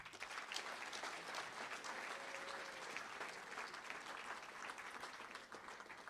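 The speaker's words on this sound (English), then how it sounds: "Give these young men a round of applause." Steady applause from a crowd fills the space at a football signing ceremony, dense and continuous clapping at moderate distance with no pauses.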